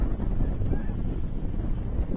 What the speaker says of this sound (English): a cold, wet, rainy, windy Wednesday evening